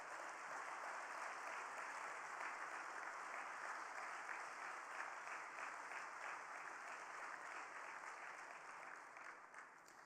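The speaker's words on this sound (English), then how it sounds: "I invite you all to give her another big round of applause" Large conference audience gives a sustained round of applause at a closing plenary session for a teacher prize winner, a dense even roar of many hands that tapers slightly near the end.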